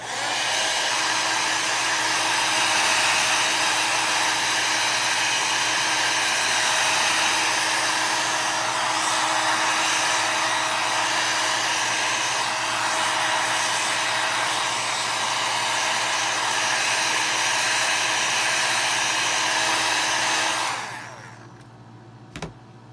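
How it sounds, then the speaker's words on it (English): An embossing heat tool blows with a loud, steady whooshing roar for about twenty seconds, then shuts off and winds down, followed by a faint click. "Let's get the heat tool and dry this a little bit."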